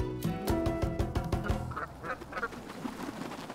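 Ducks quack in a quick series of loud, nasal calls close by, then fade into softer, scattered bird calls toward the end.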